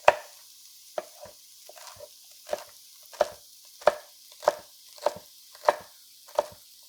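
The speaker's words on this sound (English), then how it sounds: "I'm going to chop up some celery, again, very fine." A knife finely chops celery stalks on a cutting board in a home kitchen, with about ten crisp, evenly spaced strikes ringing out clearly against near silence.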